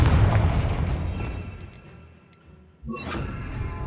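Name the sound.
Confringo spell explosion in the video game Hogwarts Legacy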